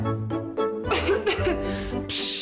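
A short burst of harsh, phlegmy wet coughing with a voiced, throaty edge, in a TV advertisement, followed by a brief hiss of noise.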